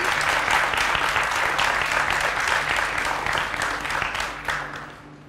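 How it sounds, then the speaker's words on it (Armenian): Studio audience on an Armenian quiz show applauding, a dense, sustained burst of clapping that holds steady and then fades toward the end. "Ծափարում ենք ըստ արժանուղի"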